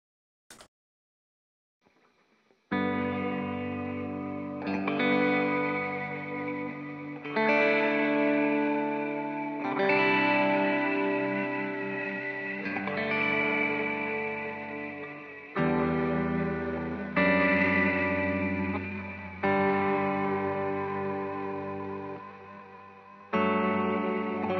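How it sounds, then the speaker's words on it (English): Guitar through a reverb pedal's modulation mode with a lo-fi, dying-tape distortion effect, playing sustained, wavering chords that change every few seconds, loud and washy with heavy reverb and no voices. "It does the Chase Bliss generation loss thing of the dying tape thing, where it just gets super lo-fi and distorted."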